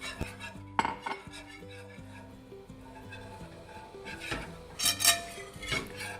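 Whisk clinking and scraping against a pan while half and half is stirred into a sauce, irregular metallic taps and rubbing strokes close by with occasional louder clatters.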